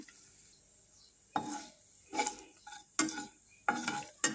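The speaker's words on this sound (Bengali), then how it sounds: "এবার এতে আমি পাঁচ ফোড়নটা দিয়ে দিচ্ছি একটু বেশি করে দেখো কটা শুকনো লঙ্কা দিচ্ছি সাথে" Panch phoron and dry red chillies frying in mustard oil in a pan, a quiet sizzle broken by several sharp stirring scrapes and clinks of a utensil against the pan, with no talk.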